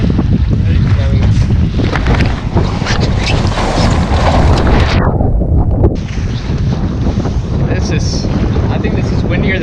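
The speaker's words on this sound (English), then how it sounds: "I think this is windier than yesterday." Strong wind roaring across a microphone aboard a Lightning sailboat planing on a very windy day, a loud continuous buffeting rush with water noise, briefly easing around the middle before surging again, with voices faintly underneath.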